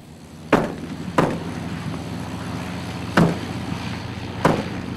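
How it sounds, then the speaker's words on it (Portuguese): An aircraft engine with faulty carburetion backfires four times, each a sharp, loud bang spaced irregularly over a steady low engine drone. "4 estampidos secos originados por carburação defeituosa do motor atroam pelo espaço como tiros de peça de artilharia"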